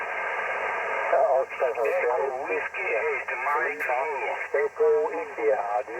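Two ham radio stations keying up at once on 12 meters, received on an Icom IC-7300: garbled, overlapping voices warble and heterodyne through band-limited static, loud and continuous with brief dropouts.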